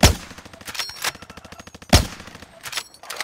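Rapid gunfire from a shooting video game: loud, close bursts of automatic shots with heavy single blasts at the start and near the middle, almost no talk.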